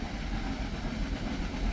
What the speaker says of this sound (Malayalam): toy train